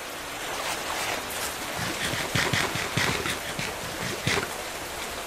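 Steady rain falls in a Minecraft world, a broad even hiss with scattered soft patters and a few louder splashes, heard alone at a moderate level.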